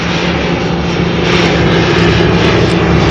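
An ATR turboprop airliner arriving from Blenheim near Auckland Airport, its engines giving a loud, steady droning roar that swells slightly as it passes close by.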